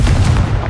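A Confringo fire spell blast in Hogwarts Legacy erupts as a dense, booming burst of low rumble that fills the whole moment without any pause.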